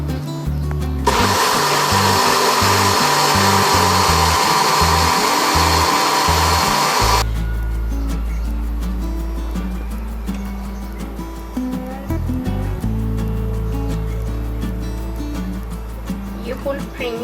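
A kitchen blender whirs loudly, blending mango juice with fresh cream for homemade ice cream, a dense high-pitched motor roar for about six seconds that then drops to a lower, steadier hum.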